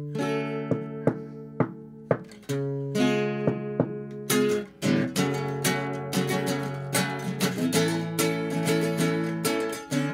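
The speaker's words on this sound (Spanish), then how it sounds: "Esta es una canción que escribimos con algunas compañeras en el colegio" A live intro to a protest song opens with sparse, spaced guitar-like hits, then builds into fuller, denser strummed playing with sustained chords, loud and close, no voices.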